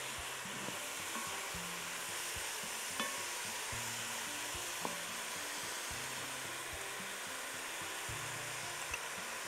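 Shawarma sizzles and fries steadily in a hot pan as vinegar is added, a close, continuous crackle with occasional stirring scrapes and soft clicks throughout.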